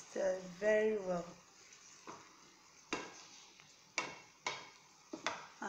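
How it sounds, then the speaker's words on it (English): Onions, tomatoes and peppers frying in a pan as egg sauce is prepared, with a soft sizzle and a few sharp spoon-against-pan stirring knocks spaced through it; speech is heard near the start. "Then we stir very well."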